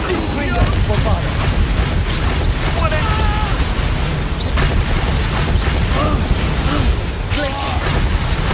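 Bombarda blasting spell cast repeatedly in the Hogwarts Legacy video game: a dense, loud barrage of booms and bursts rolling on without pause, with a voice faintly present under the din.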